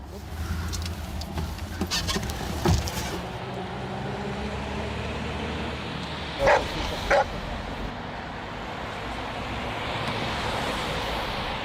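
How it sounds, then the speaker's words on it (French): A police drug-sniffing dog barks a few sharp times during a vehicle search, loud and close over steady engine and traffic noise, with a couple of louder bursts in the middle. "Il y a le chien des stupes qui va venir."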